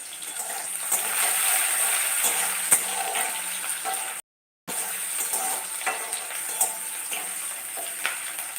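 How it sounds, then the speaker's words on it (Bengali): Chopped onion and whole cumin fry in a pan, making a steady close sizzle with occasional stirring scrapes. A brief dropout falls near the middle. "তো পেঁয়াজগুলো আর গোটা জিরেটা ভালো করে"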